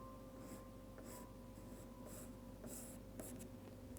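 A pencil sketches loose branch lines on watercolor paper, with soft, close scratchy strokes in short repeated bursts over a quiet background.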